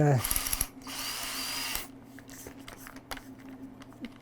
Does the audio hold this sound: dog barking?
no